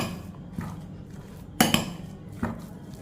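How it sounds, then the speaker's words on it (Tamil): Spoon clinks against a bowl while cumin powder, salt and chopped coriander are mixed together, three or four short metallic taps spread over a few seconds, fairly close and with no talking. "இப்போ எல்லாத்தையும் நல்லா மிக்ஸ் பண்ணிக்கிடுவோம்."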